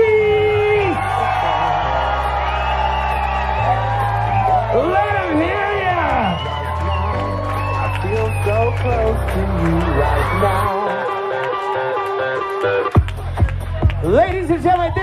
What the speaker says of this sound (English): So start clapping those hands. Start screaming and yelling.